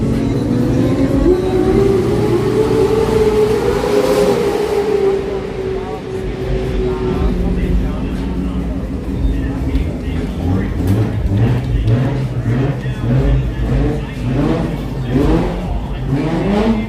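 A car accelerates hard from first into second gear with the front wheels lifting at a Garrett Brisbane Jamboree, its engine revving up and shifting under a busy crowd with people talking nearby.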